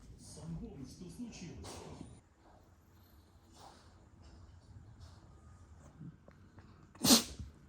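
A single sharp sneeze from a small animal bursts out near the end, following soft snuffling and quiet background voices.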